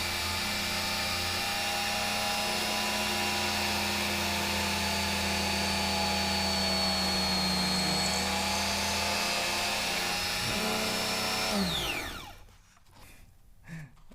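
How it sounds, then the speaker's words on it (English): A mini desktop drill press spins at high speed through a stack of paper, a steady loud whining drone with a faint high tone that holds for about twelve seconds, then winds down and stops abruptly, leaving quiet. "I'm going to be drilling paper, which can be drilled at a pretty high speed."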